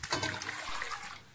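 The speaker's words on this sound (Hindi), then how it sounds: "हाफ जग पानी डाल देंगे।" Half a jug of water poured onto small cut potato pieces in a pot for boiling, a steady close rushing splash running the whole moment without pause, with no one talking over it.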